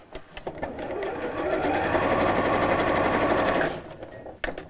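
A sewing machine stitches down a folded hem on the fabric of a drawstring bag, a steady close motor whir lasting a few seconds, with light handling clicks before and after.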